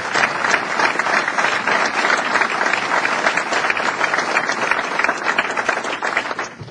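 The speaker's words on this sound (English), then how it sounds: "Let's give Cliff a round of applause as well" A round of applause from a crowd at a local Republican committee gathering, many hands clapping in a full, steady burst that holds at moderate loudness with no speech over it.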